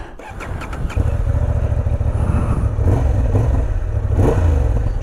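A 2024 Honda Hornet 750 motorcycle engine fires up with a short starter whir, then settles into a loud, steady idle with a few blips of revving, recorded close to the bike.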